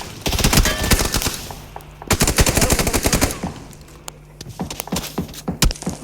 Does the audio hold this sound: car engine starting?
no